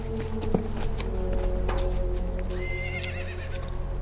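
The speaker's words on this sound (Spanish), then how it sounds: "Quatermain ha soltado a los caballos." Loose horses in an adventure film neigh loudly while their hooves clip-clop steadily, with a sharp whinny near the start and more calls scattered over a constant low rumble.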